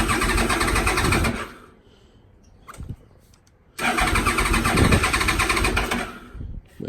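A cold motorcycle engine is cranked and briefly catches with a loud rough roar, dies into a quieter gap with a few clicks, then fires again and runs loud and ragged for several seconds before faltering.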